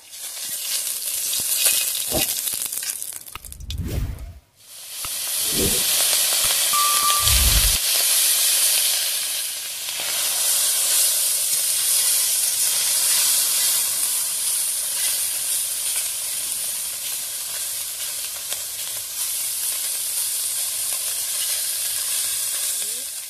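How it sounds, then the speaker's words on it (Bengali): Small morola fish fry in hot oil in a kadai, a loud steady sizzle and hiss close by, with a few thumps and clatters of the utensil early on before the frying settles into a continuous crackle. "প্রথমে কড়াইটা ভালো হয়ে গরম হয়ে গেছে, আমি এবারে তেল দিয়ে দেবো। মাছটা ভাজবো প্রথমে।"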